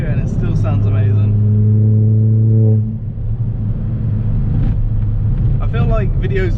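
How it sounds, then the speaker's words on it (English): A Stage 2 Ford Fiesta ST180 making 235 bhp pulls hard in fourth gear, its engine droning loud and close with a steady rising tone before a brief dip at a shift or lift, then resuming, with a voice talking over it. "Fourth gear and it still sounds amazing."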